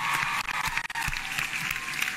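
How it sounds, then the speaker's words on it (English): Brief burst of audience applause for the university council and president at a political address in Kenya, dense clapping from a large crowd with a couple of momentary dips. "Can you give a clap to the University Council and the president?"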